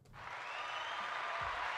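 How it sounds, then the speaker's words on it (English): A live audience applauds, a broad steady wash of clapping that swells quickly and holds, moderately distant and fairly quiet, with no one speaking over it. "if I'm getting an applause for having to say the truth, I appreciate it"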